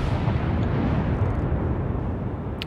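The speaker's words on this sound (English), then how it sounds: "I hear my guns." Naval guns boom in World of Warships, a heavy rumbling blast that fills the whole moment and slowly rolls off, loud and low.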